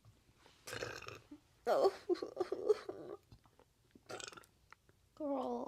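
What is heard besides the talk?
burping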